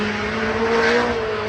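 A loud, steady engine roar from an LS-powered Nissan S14.5 drift car at Formula Drift Monroe, with a strong low droning exhaust note, holding at high revs throughout with no talking.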